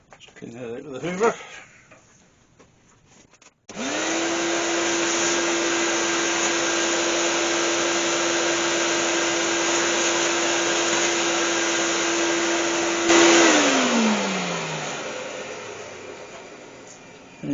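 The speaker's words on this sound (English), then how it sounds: "Clean that out with a hoover." A hoover vacuum cleaner cleans out a cherry wood-turned pen pot: after a few seconds of quieter handling noise it starts with a loud, steady whine that holds, then winds down at the end.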